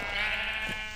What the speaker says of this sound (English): We got sheep.